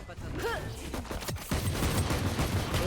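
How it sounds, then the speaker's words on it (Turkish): Pistol shots crack in a round of the tactical shooter Valorant, several quick reports landing amid game effects, with a player's voice heard over the action. "Oğlum tabancayla öldürdü beni."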